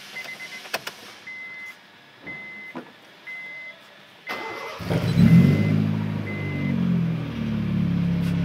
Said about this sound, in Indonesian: Kau coba minta dia start engine-nya.